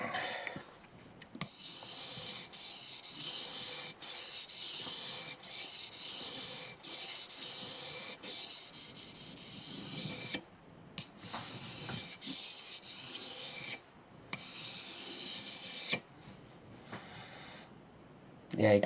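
A Mora knife blade stroked back and forth on a Japanese whetstone, repeated gritty rasping scrapes in an even rhythm close by, with brief pauses between passes.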